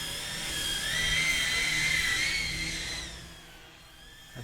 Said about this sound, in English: I swear, I feel like the helicopter just flies better.